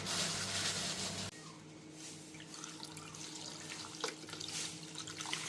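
Raw chicken pieces being washed under running water in a home kitchen, a steady close splashing and trickling stream with scattered drips, no talk.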